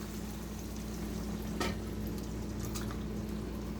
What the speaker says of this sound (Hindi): मैं 1 गिलास पानी इसमें ऐड करने लगी हूँ